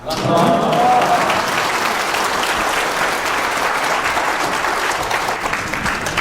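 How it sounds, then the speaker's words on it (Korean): An audience applauds a lecturer at the close of a special lecture at a Busan tax office workshop, a dense, steady wash of many hands clapping that stays loud throughout. "선 강사님께 다시 한번 뜨거운 박수 부탁드립니다"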